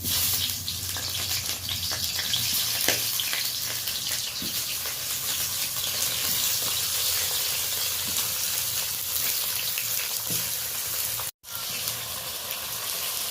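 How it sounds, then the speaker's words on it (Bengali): Green tomatoes fry in a lightly oiled, very hot pan, giving a steady, close hiss of sizzling with a few faint crackles that holds evenly and breaks off once near the end. "টমেটোগুলো আমি একটু লালচে করে ভেজে নেব"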